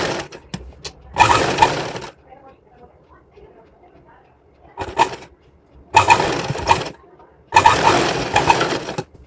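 Sewing machine stitching a girl's dress for a 4 to 5 year old, running in short separate bursts of whirring stitches with quiet pauses between, close and fairly loud.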